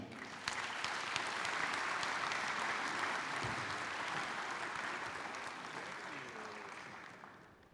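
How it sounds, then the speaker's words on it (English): A conference audience applauds a plenary speaker at a business congress, a dense, steady wash of clapping that fills the hall for several seconds and slowly thins toward the end. "Let's give a warm round of applause for Nikos Acuña."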